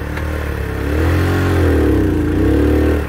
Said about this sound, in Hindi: हमारी बाइक फंस गई है जी।